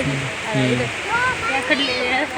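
The Tungabhadra river flows with a steady broadband rush, heard close and continuous beneath people talking.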